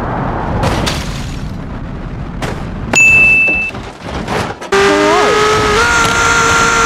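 A Tesla car jumping, with a sharp tonal whine and loud impacts, then a heavy crash followed by a sustained roar with sweeping engine-like tones.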